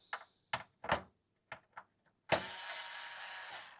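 Long screws being backed out of a heatsink assembly on an audio console processing card, a few sharp separate clicks and ratchety ticks followed by a steady whirring buzz of a powered driver, close up with no talk.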